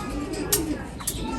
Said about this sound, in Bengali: কবুতর আস্তে আস্তে সবারই চলে আসতেছে